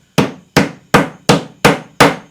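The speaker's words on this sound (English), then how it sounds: "knock them in with a hammer" Six evenly spaced hammer blows knocking metal T-nuts into holes drilled in soft wood, each a sharp close strike with a short ringing decay, with no talk.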